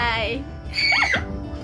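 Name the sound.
child screaming excitedly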